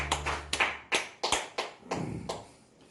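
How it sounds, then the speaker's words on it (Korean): Church congregation clapping during worship, a handful of sharp, uneven hand claps at close range over a low hum, fading by the end. "함께 박수로 인간을 올리십시다."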